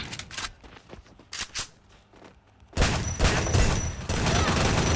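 Gunfire in the Free Fire battle royale game, a scattered run of sharp blasts followed by a dense, sustained burst of loud shooting, close and alone without talk.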